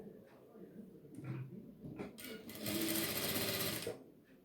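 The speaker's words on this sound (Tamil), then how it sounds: "1/4 இன்ச் உள்ளே மடித்து இந்த மாதிரி இப்போ ஸ்டிச்சிங் பண்ண போகிறேன்" A sewing machine stitches the folded hip band of a blouse, first in short stops and starts, then in a steady loud whirring run of about a second and a half, close up with brief rustling of fabric.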